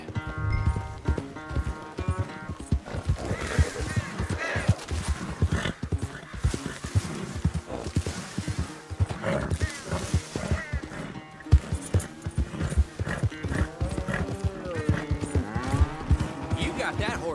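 Horse hooves clip-clop steadily through a Red Dead Redemption 2 scene, with occasional whinnies and clattering knocks, loud and close, while voices talk over the riding.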